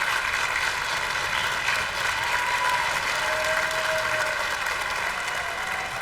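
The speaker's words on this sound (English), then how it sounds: "Can you give her a round of applause, please?" An audience claps warmly at a parish honor band concert, a thick, sustained wash of applause with no talking over it.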